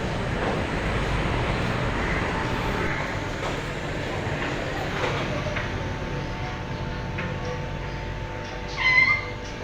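A house cat meows in the morning, a clear close call standing out near the end over a steady background rumble like a passing train.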